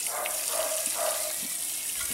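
Water rushes through a pipe clogged with soil to flush it clear, a steady close gurgling flow with faint knocks underneath and nobody speaking.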